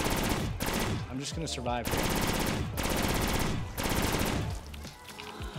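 Rapid bursts of automatic gunfire in a Custom Zombies map of a video game, loud and dense with short pauses between volleys, while a player talks briefly over the shooting.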